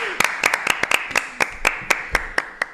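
A small studio audience claps for a guest on a women's football match-day live show, a quick run of about a dozen sharp, close, separate hand claps.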